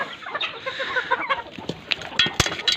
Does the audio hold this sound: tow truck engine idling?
no